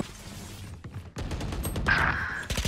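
Rapid gunfire bursts from the shooter game Valorant, several sharp close shots cracking in quick succession with brief pauses between volleys, loud and up front.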